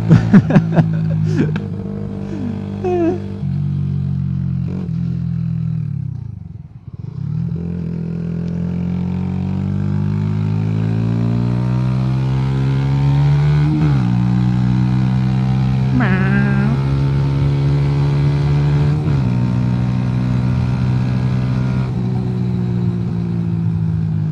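A Mash Black Seven 125cc neo-retro motorcycle engine runs steadily close by, rising and falling through the revs with a dip and a brief lull near the middle, then sustained droning and shifting pitch, with no voices over it.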